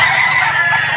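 A rooster brought from Taal, Batangas to a market sale, caught in one loud, close, sustained call with a harsh, honking tone and no talk over it.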